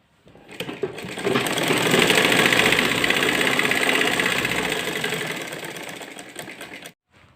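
A sewing machine stitches the waistband casing of a char-kali salwar at about 1.5 to 2 inches wide, running in one steady, close whir for several seconds before stopping abruptly.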